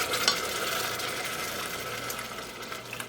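Vegetable stock hitting a hot pan in a home kitchen, a loud sizzle and hiss that flares at the start and then settles into a steady crackling fry, with no voices.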